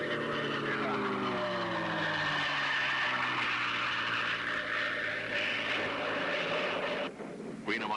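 A Bearcat propeller racing plane roars past on a 1969 world speed record attempt, its engine note rising and falling in pitch as it sweeps by, with a narrator talking over it.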